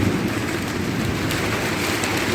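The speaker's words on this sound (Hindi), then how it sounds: "बढ़िया बारिश चालू हो गया अपने यहाँ।" Steady, dense rain pours onto a rooftop during a downpour in Bhilai, a constant close hiss with low patter and no pauses throughout.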